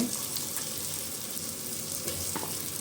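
Sliced fresh mushrooms hit a hot pan for mushroom pulao, giving a steady, close frying sizzle with faint stirring scrapes throughout, no voices.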